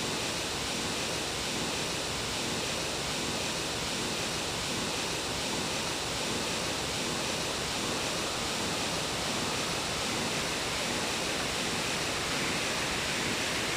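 Steady, loud roar of water rushing from a burst pipe on a croft fills the whole clip, a dense continuous wash with no pauses and no voices.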